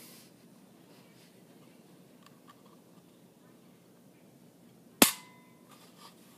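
A Sig P320 striker-fired pistol's trigger being pulled, with a single sharp, close metallic click breaking quiet room tone, followed by a faint lighter click of the reset.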